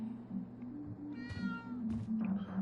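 A cat meows in the video game Life is Strange True Colors, a pair of clear, close meows rising over a steady low musical hum, with no talking.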